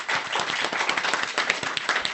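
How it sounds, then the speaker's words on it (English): Church congregation claps during a Sunday service, a moderately loud, brisk patter of many hands that holds steady for a couple of seconds. "I hope you can hear the applause out there in La La Land"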